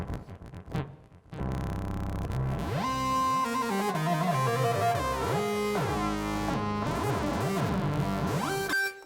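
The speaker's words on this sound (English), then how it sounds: "There's a solo synth section, which pretty much sounds like this." A Casio XW-P1 performance synthesizer's solo synth section plays a lead line with sliding, gliding pitches over a sustained electronic tone, loud and continuous for several seconds with no talking.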